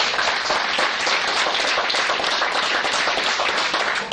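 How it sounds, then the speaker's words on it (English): An audience at a talk claps hands together, a dense, steady patter of many overlapping claps held at an even, fairly loud level for several seconds before tapering slightly at the end. "Clap your hands if you're learning."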